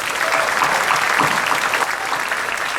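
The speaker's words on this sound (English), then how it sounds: "Big round of applause" An audience applauds the host of Captain's Corner, Captain Bill Wright, at an afternoon gathering; dense, steady clapping fills the whole stretch at an even level.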